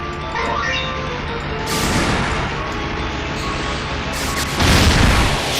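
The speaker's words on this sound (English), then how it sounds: "Rocket launcher." Rocket launcher blasts in a Windows XP shoot-'em-up game, two loud booming explosions with bright crashing bursts over a steady dense backdrop of game sound.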